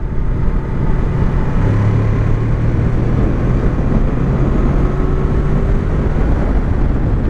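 A Honda VFR 800 motorcycle engine pulls away gently at low revs, a steady loud drone with a rising harmonic tone, dense wind and road rush throughout, no talk.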